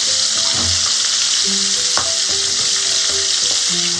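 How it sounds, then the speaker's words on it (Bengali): Prawns frying in hot oil give a loud, continuous close-up sizzle and crackle, with a few faint utensil clinks and ringing tones scattered through. "সমস্ত চিংড়ি মাছ আমি এক এক করে তেলের মধ্যে দিয়ে দেবো।"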